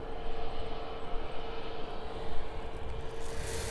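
A fixed-wing aircraft rolls along runway 27 at an airport during morning operations, its engine drone steady and moderately distant with a faint rising whine toward the end, no talk.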